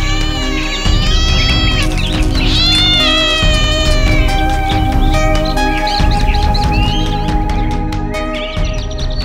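A cat meows repeatedly and loudly as a sound effect in a children's bedtime story about a plague of rats, the meows rising and wavering over a continuous musical background.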